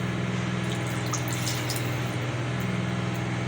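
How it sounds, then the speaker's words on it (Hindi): Water being poured into an aloo gosht curry of meat and potatoes, a steady liquid splashing and gurgling against a constant low hum, close and moderately loud with no talking. "तो मैं भी इसमें इस सब्ज़ी को डुबो दूँगी, इतना पानी डालूँगी ये मेरी सब्ज़ी डूब जाए।"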